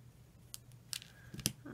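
Scissors snipping paper bird shapes for a card, a few quiet, close crisp snips spaced irregularly over a faint background hum.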